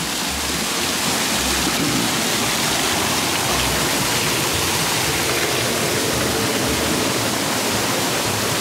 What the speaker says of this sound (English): This channel of water, it's in this man-made trough, it's carrying water down